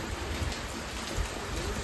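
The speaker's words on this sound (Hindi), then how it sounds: "देखो ये बारिश" Steady rain hisses continuously, a dense, even patter with soft low rumbles underneath and no voices.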